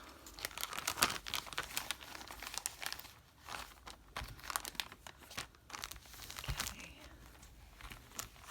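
Crinkled lace and fabric pieces are folded in half and lowered in, producing close, quiet continuous crinkling and rustling with irregular soft crackles.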